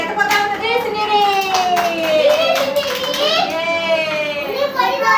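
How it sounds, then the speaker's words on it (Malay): Young children in a classroom clap for themselves after a colour lesson, with a short burst of claps under a child's sing-song voice and other chatter. "Tepuk tangan untuk diri sendiri."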